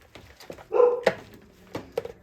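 A dog gives a few short, sharp barks close by, with brief pauses between them and light clattering in the background.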